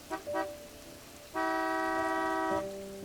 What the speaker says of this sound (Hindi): एक गाड़ी के तेज हॉर्न की वजह से मेरा ध्यान होटल के मेन एंट्री गेट की तरफ गया।